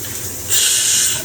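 Shower water bursts on at mid-clip after one knob is turned, a steady broad hiss of spray from the tap that stays loud and even, close by, with no talking.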